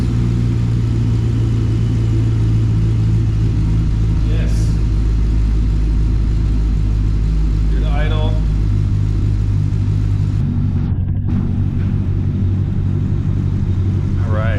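The engine of a 1963 Corvette Sting Ray C2 split-window replica runs at a steady idle, a loud, constant low rumble filling the scene while voices speak faintly over it.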